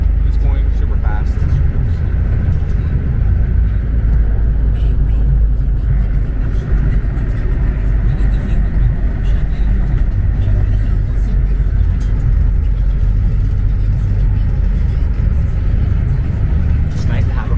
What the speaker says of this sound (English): I'm in a microbus. The bus is starting to move.